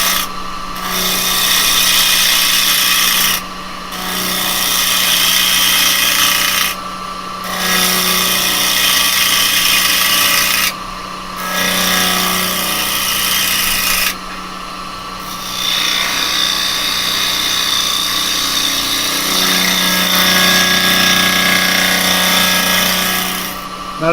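A wood lathe spins a workpiece while a carbide turning tool cuts it, making a loud, continuous, whirring cutting noise close by. It breaks off briefly several times between passes and has no talk over it.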